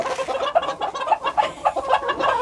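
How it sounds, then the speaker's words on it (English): A rooster in a chicken coop gives a run of rapid, throaty clucking calls to the hens, loud and close, in quick uneven bursts with no talk over it. "roosters naturally call the hens to come eat"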